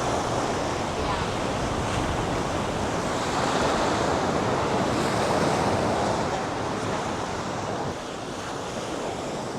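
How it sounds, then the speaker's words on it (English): Continuous roar of ocean surf breaking on Lido Beach, with wind buffeting the microphone and no voices. "Hopefully the wave sounds are coming out."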